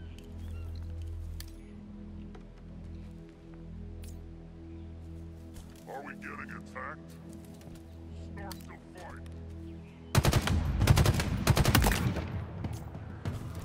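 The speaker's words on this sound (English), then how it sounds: "I'm being hit by multiple snipers right now." Sniper gunfire in the Halo Infinite campaign, with a dense burst of loud shots near the end following a stretch of quieter game ambience and a voice.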